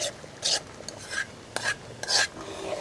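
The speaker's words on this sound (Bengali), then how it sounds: "এ পর্যায়ে আমি তেঁতুলের মাড়টা দিয়ে দিচ্ছি, দিয়ে ভালোভাবে মিশিয়ে কষিয়ে নিচ্ছি।" Tamarind pulp stirred into a pan of olive pickle, with several sharp scraping strokes of a spoon against the pan over a soft background sizzle.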